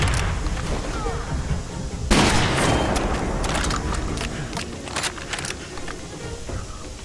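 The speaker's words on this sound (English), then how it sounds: "Grenade!" A grenade bursts in the first-person shooter Far Cry 2, a sudden loud blast about two seconds in that rolls into sustained crackling gunfire and sharp shots, with a voice shouting over the chaotic combat.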